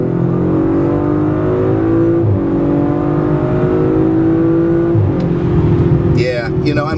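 A 2019 Audi RS 5 accelerates hard, its engine note rising steadily in pitch through each gear, with two quick shift breaks, heard loud and close from inside the cabin.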